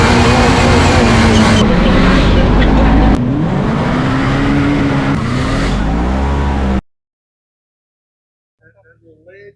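A Kawasaki KRX side-by-side with a 250-horsepower engine accelerates hard. The loud engine roar rises in pitch through the gears, then cuts off abruptly, leaving near silence with faint sounds at the end.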